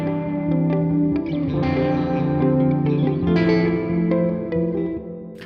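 Several guitar lines play together while a spacious reverb from FL Studio 21's LuxeVerb plugin gradually swells around them as its wet level rises, notes smearing into a wide, echoing wash.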